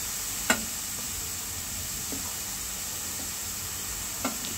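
Carrots, beans and corn sizzle in a pot of multigrain sprouted soup, a steady soft hiss of frying with a few faint clicks and taps of stirring scattered through.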